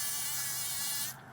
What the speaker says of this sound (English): When bumblebees vibrate their entire bodies to shake loose the pollen, they create a higher buzzing sound